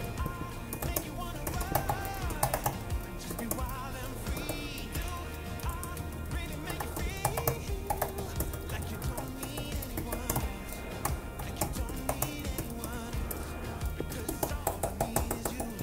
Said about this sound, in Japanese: この打鍵感と打鍵音については、まあ、基本的にはそんなにね、